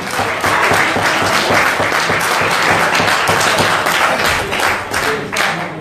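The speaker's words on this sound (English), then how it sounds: "So I'm sure you've got a round of applause for this man tonight." Loud, dense applause from an audience at an evening event, steady clapping filling the whole stretch with a few sharper claps standing out.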